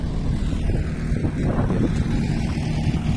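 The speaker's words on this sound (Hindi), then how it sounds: "ये देखिए, ये ट्रैक्टर जा रहा है" A tractor drives along a rural road in Punjab, its engine a steady, loud, low rumble that stays close for the whole stretch with no one speaking.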